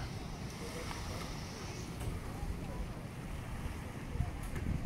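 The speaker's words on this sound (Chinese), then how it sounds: "游艇出发了， 调转头，准备出发。" A yacht sets off across Lake Tahoe in California, its motor a steady low rumble under constant wind and water wash, with splashing spray building toward the end; no talk is heard.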